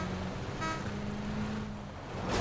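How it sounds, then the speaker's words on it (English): A car horn honks in the PUBG video game, a short toot rising over a steady engine and road rumble, heard in the distance with no talk. "There was some honking there"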